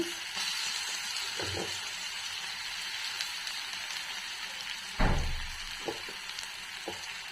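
Grated raw mango pieces for pulihora hit hot oil in a pan and sizzle steadily, with a sharper burst of frying and stirring scrapes partway through, close and continuous.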